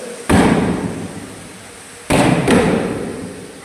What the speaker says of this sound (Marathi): फटाक्यांच्या आतिषबाजीमध्ये जितिराज मंगल कार्यालयामध्ये